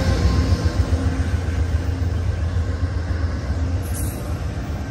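A deep, steady rumble of an Amtrak P42DC diesel locomotive idling close by at Oakland Jack London Square station, with a constant low drone and no voices.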